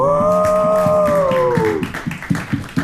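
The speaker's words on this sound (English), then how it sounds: "Let's give her a clap." A small group in Reykjavik claps steadily, with a loud sustained voiced cheer over the first half before the claps carry on alone and grow more scattered.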